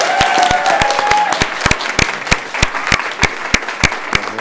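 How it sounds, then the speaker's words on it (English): Loud, close applause from an audience at a school district board meeting for the Stonegate Band, thinning into scattered individual claps, with a faint voice early on. "Please give them a round of applause again."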